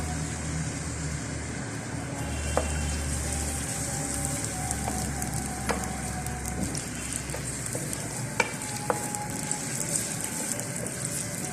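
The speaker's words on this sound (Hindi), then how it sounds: "मीडियम फ्लेम पे फ्राई करें।" Onions frying in ghee over a medium flame for palak gosht, a steady soft sizzle with occasional sharp ticks and scrapes close by.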